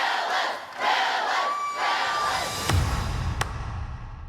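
An audience cheers for the Bellas a cappella group with a loud crowd roar and high whoops; individual claps are hard to pick out, and the noise settles into a lower, sustained crowd din.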